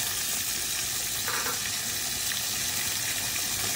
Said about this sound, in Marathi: आता आपण त्याच तेलामध्ये ग्रेव्ही टाकली आहे.